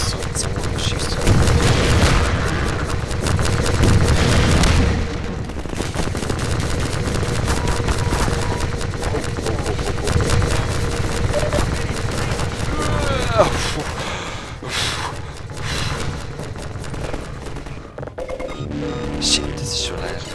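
A Strider in the Half-Life 2 video game firing, heavy rapid bursts of gunfire and booming blasts that run throughout, loud and dense, with someone talking over them.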